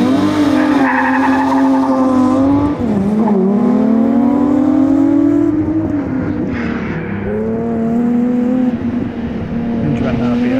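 BMW E30 with a 3.2-litre inline-six, driven hard on track, gives a loud sustained engine note that climbs and falls through the gears, with possible tyre noise mixed in.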